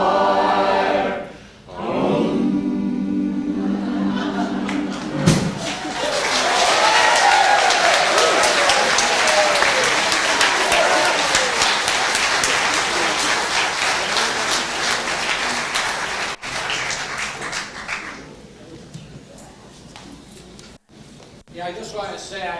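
A church congregation applauding and clapping together after singing a choir song, a dense, sustained wash of hands lasting many seconds, with voices and talk at the start and end.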